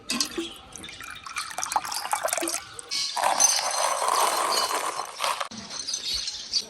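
Warm boiled water poured onto a puppy's dry food, a close, continuous splashing pour with small clinks, rising to a steady rush midway and then easing off, with no talking.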